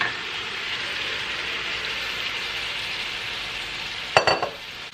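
Ackee frying in a pan on the stove, a steady bright sizzle throughout, broken near the end by a few quick clatters of stirring.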